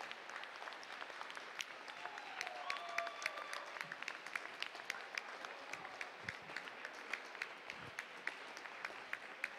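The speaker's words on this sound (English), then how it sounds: "Please join me in giving them a round of applause for their achievements." Audience applause fills a high school gym during a recognition ceremony at a boys basketball game between Cisne and Grayville, a steady wash of many hands clapping at moderate distance, fairly soft and even, with no talk over it.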